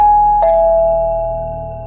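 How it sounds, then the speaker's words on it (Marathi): A doorbell rings once in a quiet room at night, a clear electronic chime that shifts pitch partway through and then decays slowly over nearly two seconds, with no voices. "5 मिनिटांनी पुन्हा बेल वाजली"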